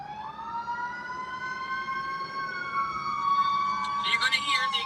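An emergency vehicle siren wails outside, its steady rising-and-falling tone passing by at moderate distance and growing slightly louder toward the end, with no speech over it.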